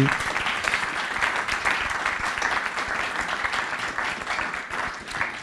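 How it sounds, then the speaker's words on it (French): Sustained audience applause at a French public hearing on rivers and animal and plant labour, dense, even clapping from a room full of people at fairly loud volume, no voices over it. "encore des applaudissements pour tout ce que tu fais"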